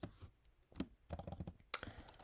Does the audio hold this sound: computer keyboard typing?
yes